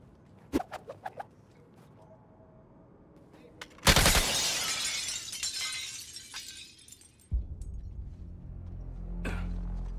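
Glass shattering in the video game Suicide Squad Kill the Justice League, a loud crashing burst after a few light clicks, followed by a trailing rattle of falling shards and a low rumble, with game sounds around it.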